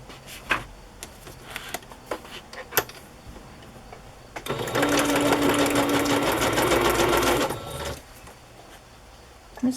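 A sewing machine runs a straight stitch through sheets of paper, a loud continuous mechanical whir for about three seconds, preceded and followed by quiet clicks and handling of the paper.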